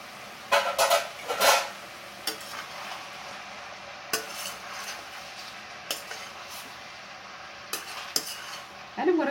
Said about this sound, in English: And I'm going to continue sauteing this.